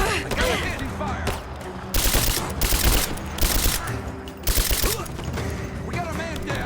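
Heavy, sustained gunfire comes in dense automatic volleys with loud bursts at regular intervals and constant crackling shots between them, while voices shout faintly in the background.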